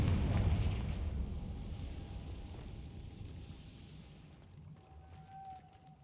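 A Confringo spell blast in Hogwarts Legacy, a deep booming explosion that hits loud at the start and then rumbles and fades away over several seconds, with no talk.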